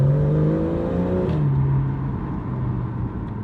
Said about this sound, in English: As I mentioned before, they all come with a sports exhaust as standard.